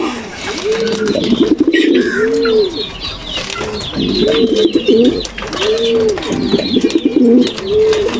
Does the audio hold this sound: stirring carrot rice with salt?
no